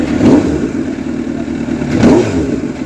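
A 2006 Honda CBR 1000RR with a loud aftermarket exhaust idles with a deep, rough burble, swelling in two short blips of the throttle, close and loud.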